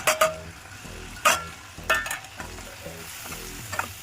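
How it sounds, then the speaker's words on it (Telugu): Chilli, coriander and turmeric powders plus salt go into a sizzling pan for a radish curry, with steady frying hiss and several sharp scrapes of a spoon stirring against the pan, close up and with no talking. "ఇప్పుడు మనము కారపొడి ధనియాల పొడి పసుపు పొడి ఉప్పు ఇవన్నీ వేసేస్తాము"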